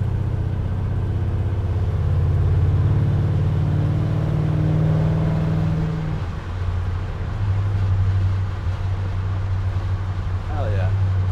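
A 1971 Ford F100 pickup with a swapped-in Coyote 5.0 V8, power steering and lowered JDM suspension drives along with a low steady engine rumble and a brief dip midway, heard from inside the cab.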